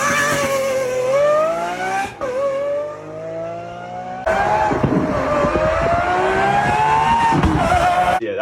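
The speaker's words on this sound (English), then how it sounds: "so he's putting exhaust on it. I'll put up a clip now. It literally sounds like a Formula 1 car." Lamborghini fitted with a loud aftermarket exhaust, engine note high and sustained with rising and falling revs, a short dip near two seconds and a louder, harsher second burst from about four seconds on.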